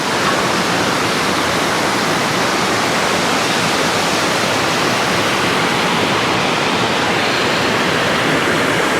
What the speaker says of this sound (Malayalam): സംഭവം നമ്മുടെ നേരെ താഴെ വെള്ളച്ചാട്ടമാണ്.